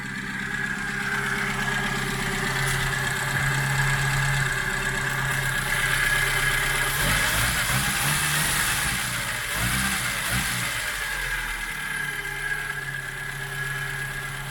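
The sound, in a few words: 1970s Austin Allegro engine idling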